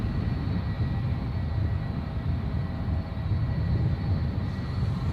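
An ATR turboprop airliner turns on the ground at Edinburgh airport, a steady low engine drone with a rumbling, throbbing undertone. It holds at a fairly constant moderate level with no talk.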